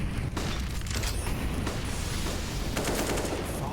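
Desert Eagle pistol shots crack out in Counter-Strike on the Inferno map during a competitive match, a few sharp loud reports over dense continuous game noise and rumble, with no voices heard.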